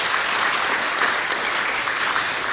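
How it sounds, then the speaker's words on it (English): Audience at a corporate conference on human resources, communications and customer service gives a sustained round of applause, loud and even from start to finish. "Let's give him another round of applause."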